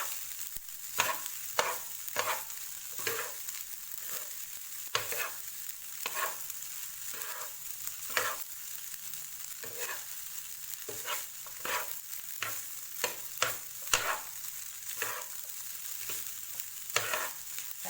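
Tawa pulao rice being stirred and mixed on a hot griddle, Mumbai street-food style: repeated scraping clicks and taps of a spatula over a steady soft sizzle, close and fairly quiet, with no talk.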